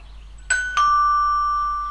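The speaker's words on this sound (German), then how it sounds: "Ja, das ist eine Klingel." A two-tone electronic doorbell chime in the video game Geheimakte Tunguska, ding then dong, clear and close, the second tone ringing out and slowly fading.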